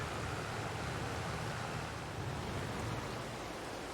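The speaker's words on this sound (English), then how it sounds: "it's just started raining and thundering" Rain falls in the farming game Farming Simulator 22 as a steady, even hiss throughout, with no distinct thunderclap standing out.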